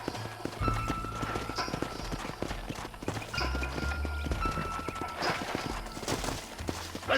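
Horses' hooves clip-clop in Red Dead Redemption as riders move through a canyon, a continuous, fairly quiet patter of several animals with occasional snorts.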